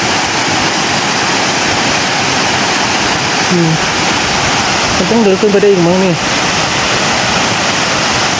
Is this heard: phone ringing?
no